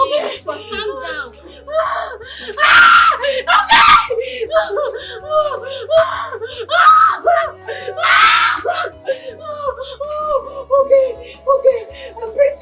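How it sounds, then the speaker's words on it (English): People screaming and whimpering in panicked bursts, loud and close, mixed with frantic talking and nervous laughter. "Stop screaming."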